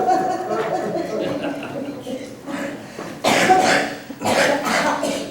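A single sharp cough breaks in during a city council roll-call vote, close and abrupt, with officials' voices heard around it.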